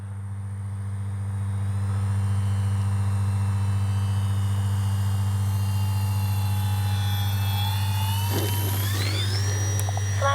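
Avios Twin Otter RC model airplane in flight at a flying field, a steady loud twin-motor drone with a whining tone that shifts in pitch near the end, no talking.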